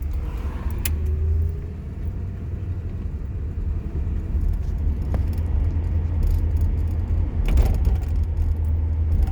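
A 1979 Pontiac Firebird cruising down a highway, heard as a continuous low engine and road rumble from inside the car with a few faint clicks and rattles.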